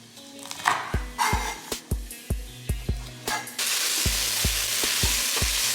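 Green beans tossed into a pot of hot onion for Greek-style green beans, sizzling and frying with a run of sharp clatters as pieces drop in, then a steady close hiss of oil alone.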